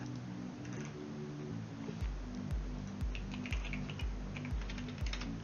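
Fingers tap out a password on a computer keyboard in quick, close clicks, with a steady low electronic hum running underneath.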